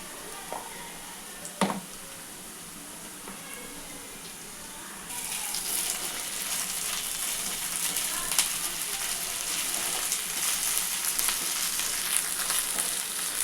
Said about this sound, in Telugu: ఇప్పుడు అల్లం వెల్లుల్లి పేస్ట్ వేసుకుందాం ఒక స్పూన్ కొంచెం వేసాం